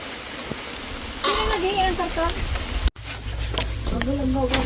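Rain falls steadily on a rural farm hut in the province, a constant hiss beneath people talking nearby, with a brief dropout near the middle.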